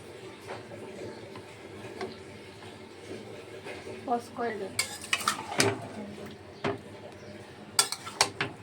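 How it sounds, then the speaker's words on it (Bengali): Mutton marinade with mustard oil being mixed in a bowl, with soft squelching and stirring, then sharper clinks and scrapes of utensil against the bowl, while a voice speaks in the background. "এবার ভালো করে নাড়াচাড়া করে নিতে হবে, মিক্সিং করে নিতে হবে।"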